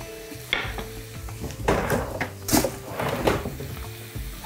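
Onions frying in a pan as ripe garden plums are added for a chicken sauce, giving a steady sizzle with stirring scrapes and a few light utensil knocks on the cookware.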